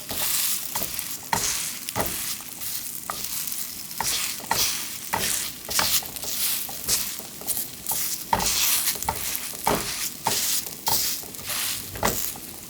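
Aged-pumpkin pancake frying in oil in a pan after being flipped, then pressed down with a spatula: a steady close sizzle broken by repeated sharp scraping and pressing strokes about once a second.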